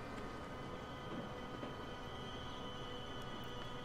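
Trains run in the railway simulation game Transport Fever, a faint, steady rumble of rolling wheels and carriages with no talk over it.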